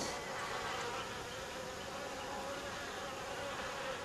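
Honeybees swarm around beehives at an apiary in the Seoul metropolitan area, giving a dense, continuous buzzing drone at low volume with no voices.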